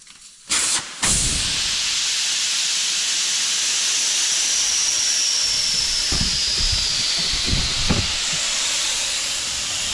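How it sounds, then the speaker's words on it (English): Air rushes out of a Volkswagen Caddy tyre valve with its core removed, a loud, steady close hiss starting abruptly and continuing unbroken, with a few faint knocks underneath. "you're going to stick this tool and untwist the valve inside. It's going to let all the air pressure out."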